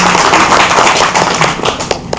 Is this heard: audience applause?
yes